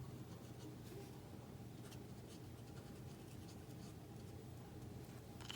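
A marker or pencil colors a paper card, soft continuous scratchy strokes close up and faint, with light rubbing bursts throughout.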